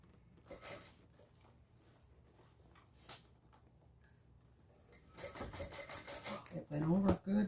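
A sewing machine top stitching a Sunset Bag at a 1/8 inch seam allowance, running over thick seams: quiet handling and soft talk first, then a few seconds of rapid, close, loud stitching with a rising motor whine.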